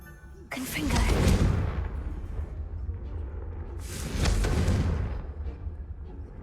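Confringo fire-blast spell cast in Hogwarts Legacy: two loud, booming bursts with a whooshing rush, roughly three seconds apart, each rolling into a rumbling tail over a low background drone.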